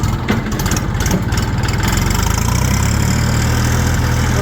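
A new RD 244 LUX Chinese tractor engine idles close by, a loud, steady low diesel chug that runs throughout with no talking over it.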